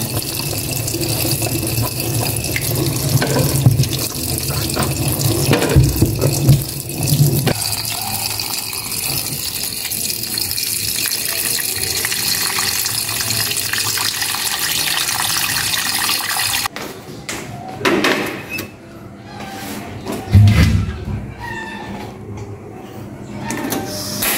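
Water runs steadily from a tap with a broad hiss, splashing and shifting as an eggplant is rinsed beneath it; the flow changes partway through.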